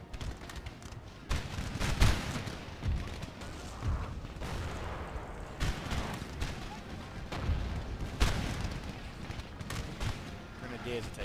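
Militia musket fire in Napoleon Total War: scattered booming volleys and distant cracks recur every second or two under steady battle noise, while someone talks over the gunfire.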